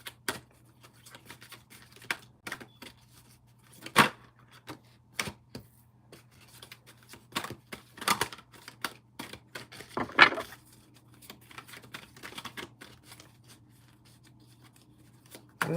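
Tarot cards being shuffled by hand, a scattered run of crisp close flicks and snaps with quiet gaps between, over a faint steady hum, with no talk.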